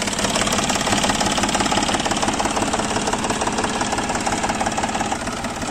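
An Iseki TA 270 tractor engine idles close by with a steady, even knocking rhythm and a faint mechanical vibration throughout, no voices over it.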